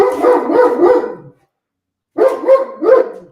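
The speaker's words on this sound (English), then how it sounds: "your dog's gonna make my dog start barking." Dog barking in loud, close bursts, a quick run of barks, a pause, then another short run of barks.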